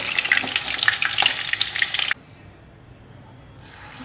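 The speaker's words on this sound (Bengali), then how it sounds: "আলতো করে আর 1 পিঠ আমি একটু ভেজে নেব, ঘুরিয়ে নেব, ঘুরিয়ে ভালো করে ভেজে নেব" Chicken drumsticks frying in a pan give a bright, crackling sizzle with spattering pops for about two seconds, then drop abruptly to a faint hiss, and the frying noise rises again briefly at the end.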